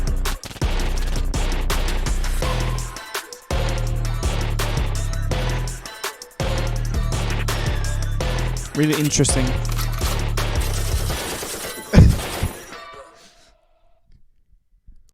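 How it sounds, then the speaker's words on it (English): Loud music from a song with sharp, repeated gunshot-like bursts punching through a heavy bass beat as a snare, ending in a final crash before fading out; a voice speaks briefly. "A lot of gun noises in the end."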